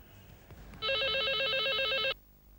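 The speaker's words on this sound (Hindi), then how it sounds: "मालविका फोन कर" A telephone rings once with a steady, warbling electronic trill lasting just over a second, loud and close against a quiet room in a Hindi TV drama.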